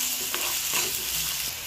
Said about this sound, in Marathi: आणि ते सुद्धा तेलावर तांबूस रंग येईपर्यंत आपल्याला शिजवून घ्यायचं आहे